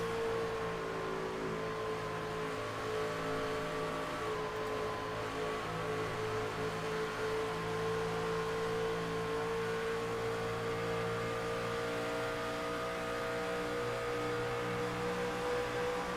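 Race truck engine from the Truck Series race at Fort Worth, Texas, droning steadily on the track with a sustained tonal whine, heard continuously and loud as if from an on-board camera, with no speech.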